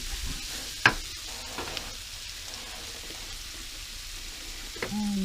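Milk being stirred into flour for lasagna sauce, a soft wet mixing and scraping in a pan, faint and continuous with a couple of sharp utensil clinks.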